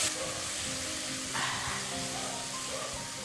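Paste with yogurt fries gently in oil in a pan over a low flame, a soft steady sizzle with faint crackles, close by and with no talk.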